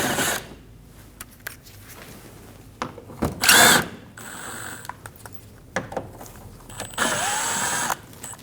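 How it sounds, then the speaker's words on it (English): Power driver with a T25 bit backing screws out of the bumper cover on a 2012-2022 Volkswagen Passat: short whirring bursts with ratcheting clicks and handling noises, close up and without talk. "We're going to use a T25 bit and we're going to remove the 3 screws"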